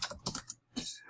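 Quick keystrokes on a computer keyboard come in two short bursts separated by a brief pause, close and soft, with no talking.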